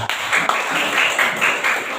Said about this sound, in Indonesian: Beri tepuk tangan regu A